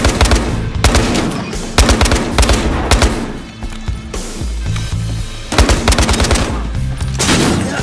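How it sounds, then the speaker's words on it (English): Sustained rapid gunfire in the video game Battlefield Hardline, with overlapping bursts and shots, loud and dense throughout, like an intense firefight with automatic weapons. "I heard gunshots."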